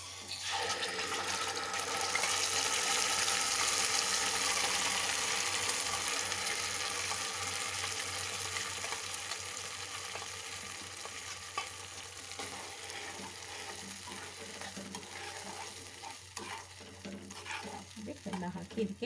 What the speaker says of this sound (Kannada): ಸಾಕು, ಕರಿಬೇವು ಇಷ್ಟು ಫ್ರೈ ಆದರೆ ಸಾಕು